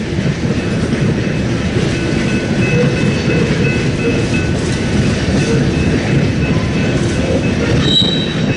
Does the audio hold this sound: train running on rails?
yes